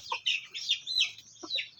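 A few soft clucks and chirps from pullets sound nearby against a quiet background.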